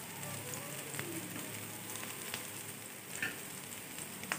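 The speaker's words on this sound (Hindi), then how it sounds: "लो टू मीडियम फ्लेम के ऊपर हम लोगों ने अपने कबाब को फ्राई करना है।" Beef shami kebabs fry in oil over a low-medium flame, a soft, steady crackling sizzle with faint scattered pops, fairly quiet and without talk.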